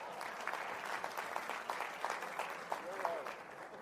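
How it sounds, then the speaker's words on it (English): A congregation claps at a sermon, a steady roll of applause with a voice speaking over it throughout. "Come on, you all clap."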